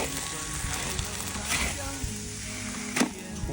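Meat fries in a wok with a dense, steady sizzle throughout and a couple of brief louder crackles from stirring.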